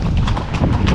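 Horse hooves clopping on a pebble beach in northern Lofoten, Norway, with close, steady crunching footfalls that repeat loudly throughout the short clip.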